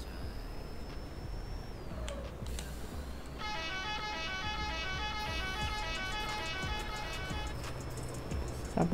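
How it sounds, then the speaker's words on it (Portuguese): A truck horn sounds in a long sustained blast with a rapid warbling, musical pattern, loud and close over steady road and cab noise, following a thinner tone earlier. "Essa buzina é muito boa."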